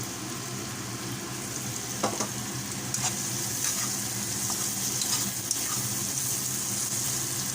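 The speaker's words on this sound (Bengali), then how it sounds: "এখন হচ্ছে আমি টমেটো দিয়ে তারপর মাছ ভুনা করবো" Already-fried fish cooks in a pan with tomato, giving a steady, low sizzle with a few soft stirring clinks and scrapes throughout, no talking.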